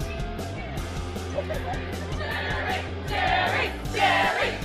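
Audience at a Dublin comic con costume contest cheering and whooping, a busy crowd roar under amplified speech from a presenter, with bursts of louder cheering swelling toward the end.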